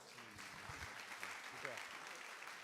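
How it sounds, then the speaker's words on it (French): A crowd claps continuously at a moderate level at a church celebration, with a voice faintly audible beneath the applause. "On l'applaudit chaleureusement."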